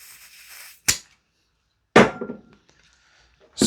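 Maruyama SPC-9 PDW gas blowback airsoft gun dry firing on gas in an empty magazine: a faint hiss, then three sharp, loud mechanical cracks spaced about a second apart, with a short metallic rattle after the second.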